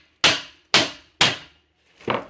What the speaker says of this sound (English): just beat it out with a hammer on the bottom.